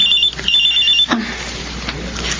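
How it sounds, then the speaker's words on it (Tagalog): A cellphone rings with a bright, high electronic tone in two short repeated bursts, then cuts off into a quiet room with faint movement. "Ay, Isabel, may tumatawag sa cellphone ni Myla"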